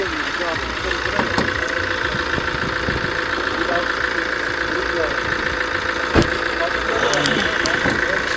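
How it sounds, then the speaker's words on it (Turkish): Fiat Bravo engine running rough and noisy, a continuous close shaking mechanical drone with knocking vibration, while someone talks over it. "Motoru ciddi sarsıntılı ve gürültülü çalışıyor bana göre"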